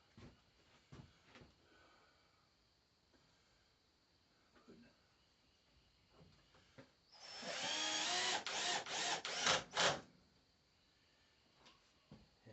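A power drill drives drywall screws fitted with washers through pegboard in a workshop, sounding as one loud buzzing burst broken into several short pulses, between quiet taps and handling sounds.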